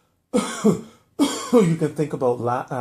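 Two sharp coughs, then a burst of several quick coughs that trail into voiced throat sounds. Close and loud, with no talking.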